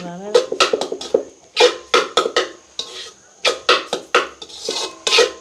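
Rapid rhythmic metallic clanging of blades chopping kothu parotta on a metal griddle, in quick bursts of strikes with short pauses between, close and loud.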